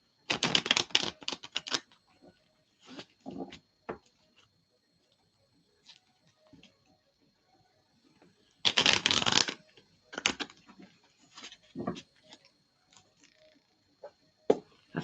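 Cards being shuffled for a tarot-style reading, two long bursts of rapid riffling patter with scattered shorter taps and flicks between them, close and crisp in a quiet room.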